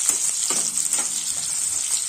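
Sliced onions frying on a high flame for Hyderabadi red chicken fry, a loud, continuous hiss of hot oil broken by a few scraping stirs near the start, close by and without talk.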